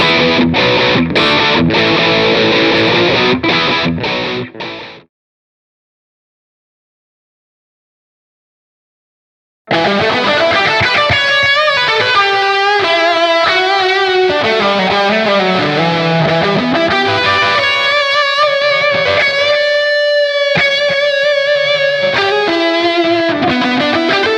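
Heavily distorted electric guitar through a Positive Grid Spark GO amp plays loud, saturated chords, stops for a few seconds of silence, then returns with a thick, high-gain riff.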